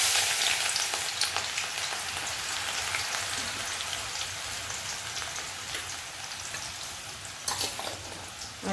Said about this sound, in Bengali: এখানটায় তেল গরম হয়ে গেছে। পেঁয়াজ দিচ্ছি